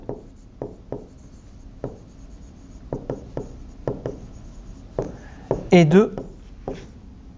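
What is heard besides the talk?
writing by hand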